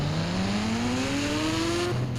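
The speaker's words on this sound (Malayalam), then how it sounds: "എൻ്റെ പുതിയ പുത്തൻ വണ്ടിയാണ്, ലാംബോർഗിനിൻ്റെ." Lamborghini sports car driving in the video game GTA V, its engine tone rising steadily in pitch as it accelerates, loud and continuous, with a brief shift near the end.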